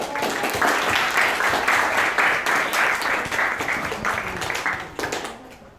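Sustained applause from a high school mathematics class, dense clapping running steadily for several seconds before tapering off near the end.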